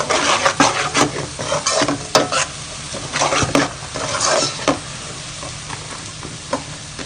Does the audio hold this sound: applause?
no